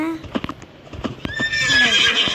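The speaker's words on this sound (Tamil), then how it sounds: "ஏம்மா குதிரை, உன் பேர் என்ன?" A horse in a Roblox castle escape game neighs and whinnies with rising tonal calls over rapid clip-clopping hoofbeats, loud and close throughout.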